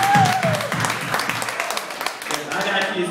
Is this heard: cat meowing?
no